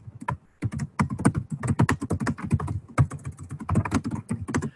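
Quick, irregular keystrokes clatter on a computer keyboard as a title is typed, close and clear, in continuous runs with a short pause near the start and no speech.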